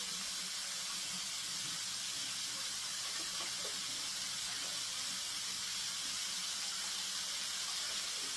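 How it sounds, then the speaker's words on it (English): Steady tap water runs into a kitchen sink while hands are washed during burger slider prep, a constant hissing rush from start to finish with no talking. "Just wash my hands."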